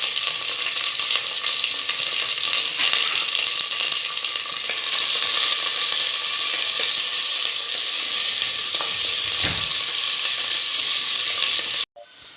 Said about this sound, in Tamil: இப்போ நல்லா வதங்கிடுச்சு வெங்காயம்